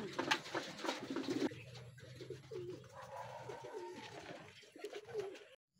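Racing pigeons cooing at their home loft after returning from a derby race, soft continuous throaty coos with some flutter and background noise, fairly close and low in level.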